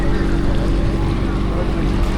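Boat ride on the Ganges river at Rishikesh, a steady loud engine drone and water rush filling the whole stretch, constant and close throughout.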